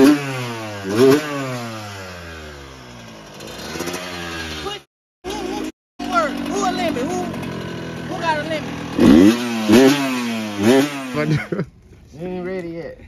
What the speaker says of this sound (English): It was cranking. Yeah, it's cranking in, Ryan.